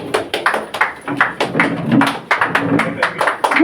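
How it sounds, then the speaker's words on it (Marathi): An audience at a medical camp event in Badlapur claps hard and fast, with a steady patter of many hands close by that carries on for several seconds. "जरा जोरदार टाळ्या होऊन जाऊ देत त्यांच्यासाठी।"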